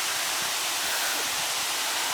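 Waterfall in a forest heard as a faint, steady hiss of rushing water, broadband and unchanging, with no voices over it.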